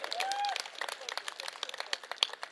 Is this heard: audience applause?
yes